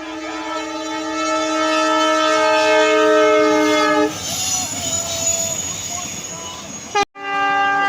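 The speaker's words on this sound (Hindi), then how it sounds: "यहाँ पर ट्रेन आ रहा है, ट्रेन का आवाज सुनाई दे रहा है अभी।" The Delhi Express passes close by, sounding a long loud horn blast before the rumble and clatter of its carriages take over, then a short horn burst returns near the end.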